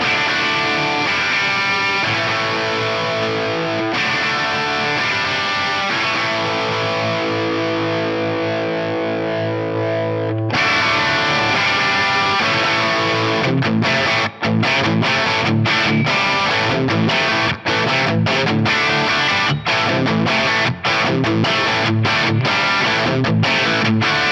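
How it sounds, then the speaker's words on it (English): Electric guitar through an Axe-Fx III 50-watt Plexi amp model with virtual Variac: loud, saturated distorted chords ring out at first, then give way to a run of choppy, palm-muted riffing with sharp stops, no talking. "So let's use the virtual Variac and put on this 50-watt Plexi."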